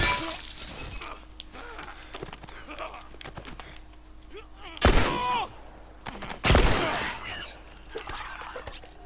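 Gunfire in the video game The Last of Us comes as two loud, sharp shots standing out from a busy background of scattered clicks and clatter, with voices talking throughout.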